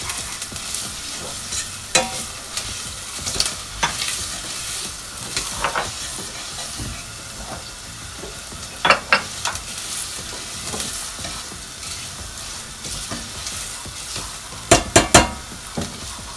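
Almonds sizzle in a pan while being stirred for a creamy mushroom soup, a constant close frying hiss broken by sharp clattering scrapes of the spoon, with no voices.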